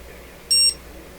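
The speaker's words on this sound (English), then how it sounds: "So I squeeze the trigger, this thing's going to beep." A handheld laser thermometer gives one short, bright electronic beep as its trigger is squeezed in a workshop, clear over a quiet low background hum.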